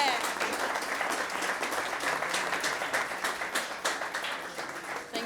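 Audience at an engineering open house in Barcelona breaks into sustained applause, a dense crowd of clapping hands that holds steady for several seconds and slowly tapers.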